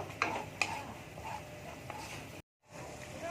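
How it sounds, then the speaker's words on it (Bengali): Turmeric and chili powder masala with ginger-cumin paste being sautéed for aloo dum, a soft sizzle under scraping stirs with a couple of sharp utensil knocks against the pan, then a brief dropout before the frying resumes. "দিয়ে দেবো হলুদ গুঁড়ো লঙ্কার গুঁড়ো ভালো করে কষিয়ে নেব"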